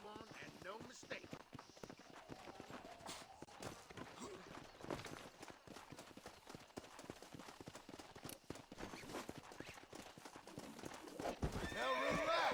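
Galloping horse hooves in the video game Red Dead Redemption, a fast continuous clip-clop with whinnies and snorts mixed in, loud and close, with game music and effects swelling near the end.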